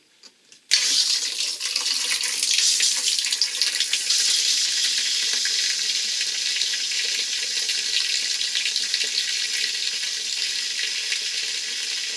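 Cold water gushing from an RV bathtub faucet, a steady hissing stream that starts abruptly and continues alone at close range.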